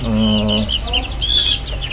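Chickens kept on a small farm, one month old and older plus breeding hens, cluck loudly and close in a busy rapid stream, with a few sharper squawks overlapping and faint speech beneath.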